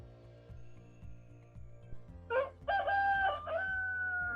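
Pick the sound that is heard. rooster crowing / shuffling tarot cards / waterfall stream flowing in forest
rooster crowing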